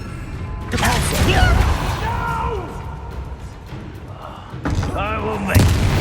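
A Confringo blasting spell in the Hogwarts Legacy video game, loud booming blasts with rumbling debris and whooshing magic effects, followed by another burst near the end.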